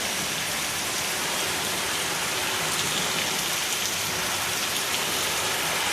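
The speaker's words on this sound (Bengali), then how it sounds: "বৃষ্টি হচ্ছে" Rain falls steadily during a storm, a loud, continuous wash of drops on surfaces with no pauses and no speech.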